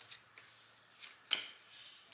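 A deck of game cards for a legal-themed tabletop card game being shuffled by hand: several soft, quick riffles and flicks close by, one sharper snap near the middle, quiet and without talk.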